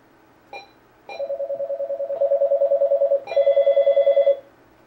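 Two short electronic beeps and then a telephone ringing in repeated rapid warbling bursts for an incoming call on a French-language radio-style show, loud and close, with no talking over it.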